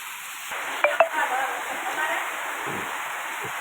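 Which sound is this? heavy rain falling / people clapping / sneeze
heavy rain falling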